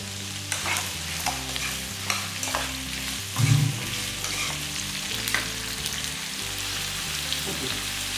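Ingredients sauté in a pan for a wedding-catering style mor kuzhambu, with a steady frying sizzle and repeated scraping stirs of a spatula, one louder clatter midway, and no talk.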